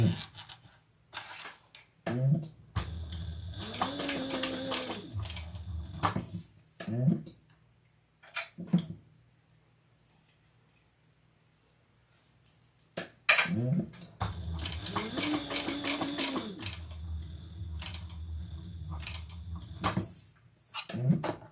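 A sewing machine stitches a custom order in two bursts of steady whirring, each lasting several seconds. Between them come quiet pauses with clicks and handling sounds, and no one talks.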